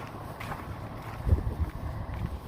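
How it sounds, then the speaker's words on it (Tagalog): Strong wind buffets the microphone in low rumbling gusts, growing heavier partway through, in an open outdoor area at freezing temperatures. "open area dito yung hangin malakas yung hangin na buhos ng hangin"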